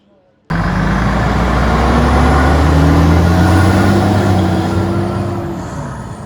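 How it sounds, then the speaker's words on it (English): A Bushmaster armoured vehicle at an army museum open day starts up loudly with a sudden heavy engine roar, then holds a steady rumbling drone that rises slightly in pitch, close by and dominant throughout. "We've got a queue here, it's quite long, for people to ride in some sort of armoured vehicle."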